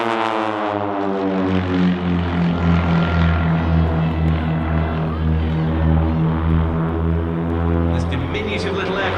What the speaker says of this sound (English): This diminutive little aircraft able to maneuver tight.